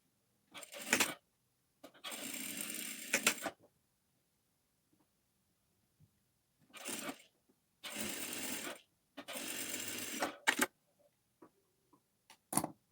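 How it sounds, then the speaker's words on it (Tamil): An electric sewing machine stitches a blouse shoulder seam in several separate bursts of rapid mechanical whirring and clatter, each a second or so long, with quiet pauses and small clicks between them. "எப்போவுமே சோல்டு ஜாயின் பண்ணும்போது டபுள் டைம் நீங்கள் ஸ்டிச்சிங் போட்டுக்குங்க"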